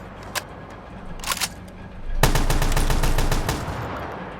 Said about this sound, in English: And now let's fire and see if it jitters.